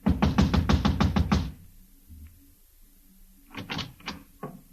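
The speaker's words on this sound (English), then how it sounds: "I walked over and started knocking again." A rapid burst of about a dozen sharp knocks on an apartment building door, close and loud, followed by a pause and then a second shorter round of knocking.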